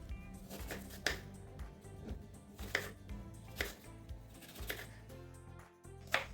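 A knife dices apples on a cutting board in quick, uneven strokes, with close, crisp thuds and no voices.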